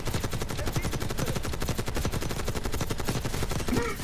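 Rapid automatic gunfire in Call of Duty Black Ops 6, a dense, steady stream of close, loud shots running for several seconds with no pause.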